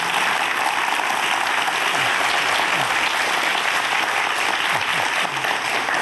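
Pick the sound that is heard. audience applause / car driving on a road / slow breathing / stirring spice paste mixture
audience applause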